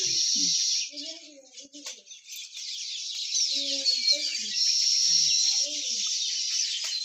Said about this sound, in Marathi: आली बघा चिमण्या